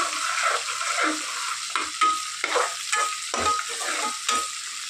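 A spoon scrapes and stirs food frying in a pan in a home kitchen, producing a continuous sizzle with repeated scraping strokes at a steady rhythm, close up. No one speaks.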